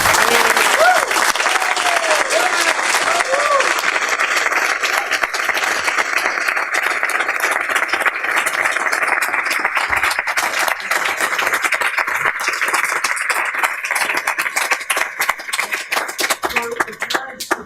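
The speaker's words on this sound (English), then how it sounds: "could you stand up so everybody can give you a nice round of applause?" A room full of people at a county board of supervisors meeting applauds steadily and loudly, dense clapping that carries on for a long stretch before thinning slightly at the end.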